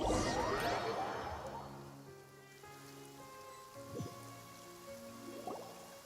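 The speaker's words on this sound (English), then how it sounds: "It's been raining non-stop for a few days now." Steady rain falls through a Genshin Impact scene in Fontaine, a dense hiss loudest at the start and easing off, with soft game music and occasional brief splashes underneath.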